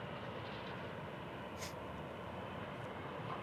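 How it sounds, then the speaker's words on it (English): An Embraer E-175 airliner arriving at Kansas City airport, heard as a faint continuous engine roar from a distance, steady and unbroken. "E-175 in from Portland."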